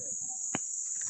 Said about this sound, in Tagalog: Ay, may kuliglig.